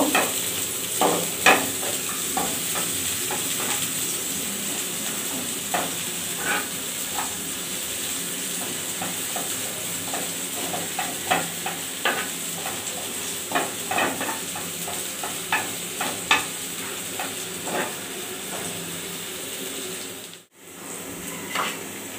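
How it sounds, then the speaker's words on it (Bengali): Chopped onion and garlic frying in a pan, a continuous sizzle punctuated by frequent spatula scrapes and taps in an irregular rhythm, with a brief drop out near the end. "ফ্রাই প্যানের মধ্যে পেঁয়াজ কুচি আর রসুন কুচি দিয়ে দিব। হালকা একটু পেঁয়াজটা ভেজে নেব।"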